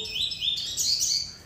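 A double-collared seedeater (coleiro) sings a tuí-tuí song: bright, close, high-pitched whistled and chirping phrases that run continuously, with no voices over them.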